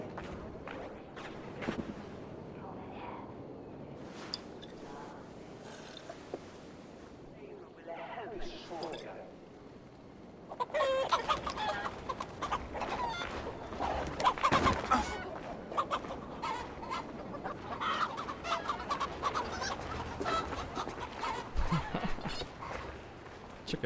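Chickens cluck and squawk in Assassin's Creed Valhalla, with clucking rising louder and busier in the second half over footsteps and game ambience, while a voice speaks throughout.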